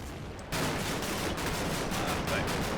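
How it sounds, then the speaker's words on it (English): Rapid 30mm cannon fire in the war game Combat Mission, a sustained dense burst of heavy shots that starts abruptly and keeps rattling loudly, with faint background talk. "It's kind of hard to hear because of the 30mm cannon in the background."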